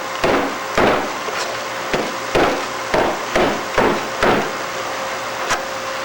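A foam block is hammered onto a wooden aircraft rudder with about nine sharp, evenly spaced blows. They are close and loud, with no talking.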